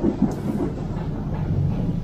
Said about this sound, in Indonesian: itu suara geledek.